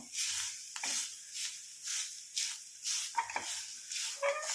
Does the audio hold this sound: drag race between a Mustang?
no